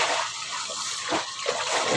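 Water runs steadily into a kitchen sink as laundry is rinsed, giving a continuous close hiss and gush with small shifts in flow and no talking.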